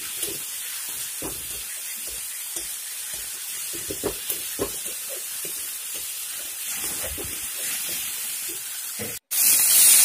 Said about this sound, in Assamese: সেইখিনি মই মিডিয়াম ফ্লেমত ভাজি থাকিম